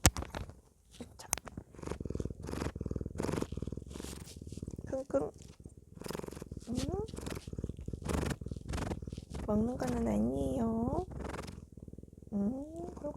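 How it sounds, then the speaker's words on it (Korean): A pet cat purring in a low, rhythmic pulsing rumble close by, interrupted by sniffing and a few short meows, with someone talking softly over it. "오늘도 골골송 들려드릴까요?"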